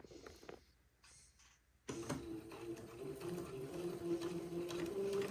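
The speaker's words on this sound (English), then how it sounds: "I'm going to first sew a pin tuck on this line that I drew with my friction erasable pin" A sewing machine stitches a pin tuck with a twin needle, starting up after a brief quiet pause and then running as a steady, close mechanical whir that builds slightly in speed.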